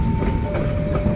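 The KA Pandalungan Jember–Gambir passenger train passing on the rails south of Sidoarjo station at a junction, a loud, close, continuous rumble with rhythmic wheel clatter and a steady squealing tone.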